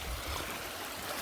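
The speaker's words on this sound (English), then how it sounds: "they got a nice brook crossing here with brand new bridge mats" A forest brook flows beneath a stream crossing laid with new bridge mats, a soft continuous watery rush that stays faint and distant.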